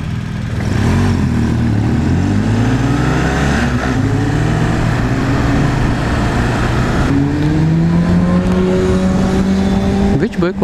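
A motorcycle passes nearby on a street, its engine loud and rising and falling in pitch as it goes by, with another engine revving up sharply at the end.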